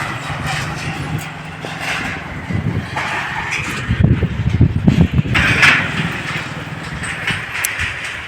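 Motorbikes ride fast across a steel suspension bridge in Nepal, a rumbling engine noise that swells and fades as bikes pass close by, with a louder surge midway and steady background hum.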